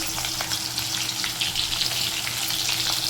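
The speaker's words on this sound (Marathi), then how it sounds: "कांदे लाल होईपर्यंत आपण परतू देऊ" Chopped onions fry in hot oil in a pan for a sev tomato curry, giving an unbroken, even crackling sizzle close by and moderately loud, with no talking.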